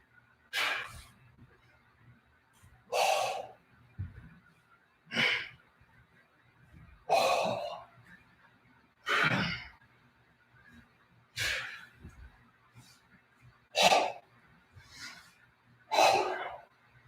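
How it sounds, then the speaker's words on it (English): Deep, forceful breaths in and out during an online martial arts exercise class, about eight or nine strong rhythmic exhalations spaced roughly two seconds apart, close and clear with no talking. "And breathe in and out."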